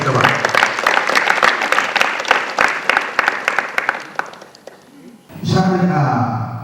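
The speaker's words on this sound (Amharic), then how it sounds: "ኮርዳዊት ይሸኙልኝ አንድ ጊዜ ሞቅ ባለ ጭብጨባ" A hall audience claps warmly for an honoree at an Ethiopian award ceremony, dense applause for about five seconds that fades out before a voice cuts in at the end.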